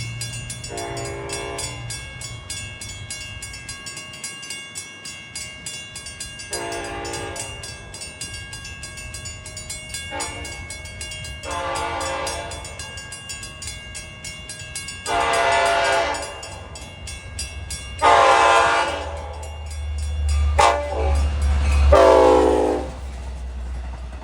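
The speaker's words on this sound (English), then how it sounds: "Leader is engine 521 with a K5LLA horn." LIRR diesel train led by engine 521 passing on the Montauk Branch east of Babylon, sounding a K5LLA horn in several long blasts that swell louder as it nears, with rumbling wheels and engine building toward the end.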